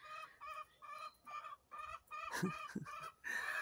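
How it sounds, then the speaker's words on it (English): Several chickens cluck in short repeated bursts, fairly close, with a sharper squawk in the middle and no talking. "those chickens"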